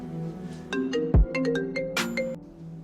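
A phone ringtone plays a bright electronic melody of short, rhythmic notes, clear and close, with no one speaking.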